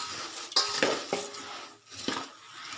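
Puffed rice (churumuri) being tossed and mixed into a chuda snack, with repeated scraping and clinking of a spoon against a metal bowl, close and fairly loud, no talking.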